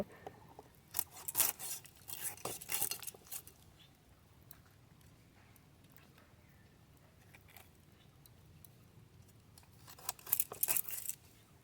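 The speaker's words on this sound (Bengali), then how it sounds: "মাছটাও খুব ভালো করে আশ তুলে নিয়েছি পিস পিস করে কেটে নেব" Snakehead fish, already scaled, is cut into pieces in a home kitchen: faint, crisp snipping and scraping comes in short bursts near the start and again near the end, with a quiet gap between.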